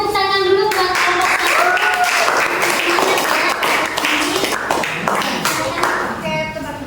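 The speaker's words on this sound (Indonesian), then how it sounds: "Kita beri tepuk tangan dulu buat kelompok." An audience gives a presentation group steady, sustained applause that fills the room, with voices heard faintly at the start and end.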